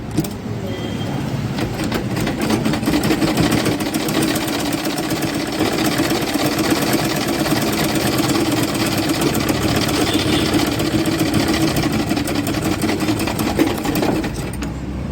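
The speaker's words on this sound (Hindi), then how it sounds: "यहाँ पे हम लोग ने डबल सिलाई चलानी होती है।" A sewing machine runs continuously at steady speed, double-stitching underwear fabric, its fast even clatter holding close and loud throughout.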